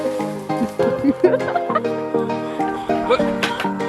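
Chickens cluck and squawk close by in a busy, overlapping chorus, loud and continuous with sharp bursts.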